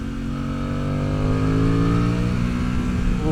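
A 2026 Aprilia Tuono 660 Factory naked motorcycle pulls hard in second gear, its engine note climbing steadily in pitch as it revs, loud and close throughout with no voices.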